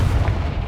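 The Confringo fire spell from Hogwarts Legacy lands with a single deep, booming blast that rumbles loudly and fades over a fraction of a second.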